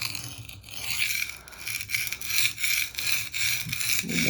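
A knife blade is honed by hand on a whetstone, with rhythmic close-up rasping strokes repeating roughly every half second, each a gritty scrape of steel on stone, and no voice over it.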